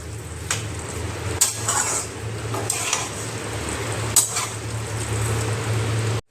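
Fried mourola fish are stirred with potatoes and spices in a pan, producing a low, steady sizzle broken by a few sharp scraping clicks of the spatula against the pan, ending abruptly.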